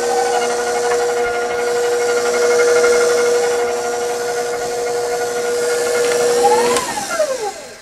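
An electric mixer gives pecan sandies cookie dough one more whirl. Its motor makes a steady, close, hissing whine, then winds down with a falling pitch at the end.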